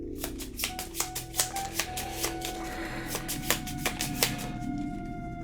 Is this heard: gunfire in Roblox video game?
no